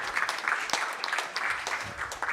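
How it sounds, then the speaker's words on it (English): An audience at an international investment summit applauding the moderators, a dense, steady clatter of many hands clapping throughout. "a big round of applause for our moderators"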